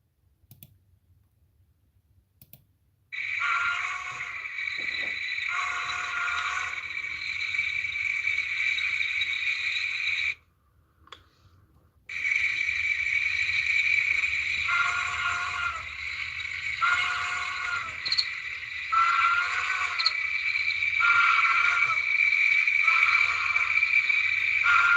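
Crickets at a night campsite chirp in steady, dense trills that start a few seconds in, pause briefly midway, then resume with a pulsing rhythm, loud and close, with no voices.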